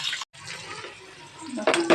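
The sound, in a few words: chopped onion added to hot oil in a pan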